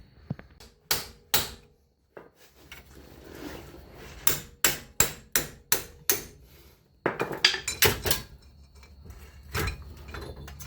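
A hammer taps an axle bearing out of its housing, striking in quick clusters of sharp metallic knocks with short pauses in between, close and clear.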